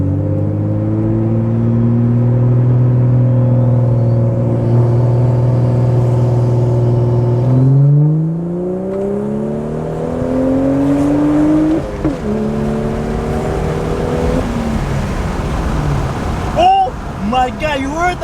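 A BMW 435i with a newly installed catless downpipe drones at a steady idle, then climbs through a rising rev before settling back, with a few crackles and pops near the end, loud and close to the microphone.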